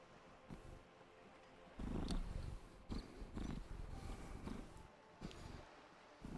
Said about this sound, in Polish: Mruczy potężnie.